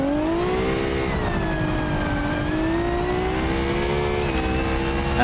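A Formula Three race car on a fast qualifying lap at the Chinese Grand Prix, its engine a loud continuous high-pitched scream that rises and falls slightly with throttle and gear changes, heard alone from onboard.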